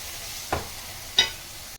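Ground cumin and coriander sauté in a pan for mutton biryani, with a low steady sizzle under two brief scraping stirs.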